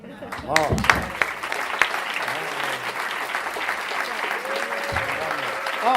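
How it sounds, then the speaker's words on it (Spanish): An audience breaks into applause at a talk, clapping building quickly and holding steady while a voice speaks over it near the start and cheers rise within the crowd. "¡Fuerte aplauso!"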